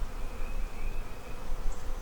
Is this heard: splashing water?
no